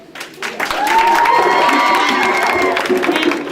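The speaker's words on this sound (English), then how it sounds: "can you hold your applause until I complete the list?" An audience at a school awards and graduation ceremony breaks into loud cheering and applause, children shouting and whooping over scattered clapping, swelling quickly and holding at full volume throughout.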